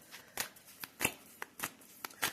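A tarot deck shuffled by hand: a quick series of soft riffling flutters and light snaps, close and quiet, with no voice over them.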